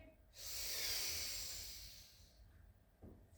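A deep breath drawn in during a Pilates mermaid side stretch, one long airy inhale that swells for about two seconds before tapering off, close and alone.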